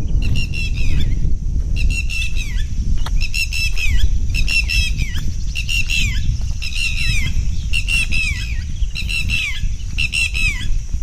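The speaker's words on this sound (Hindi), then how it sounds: "और पक्षी की मधुर आवाज आपको सुनाई" Repeated loud squawking and honking bird calls in bursts over a low rumbling background, fairly close, with no speech, at a historic memorial-stone site with a stepwell in Jhalawad, Saurashtra, Gujarat.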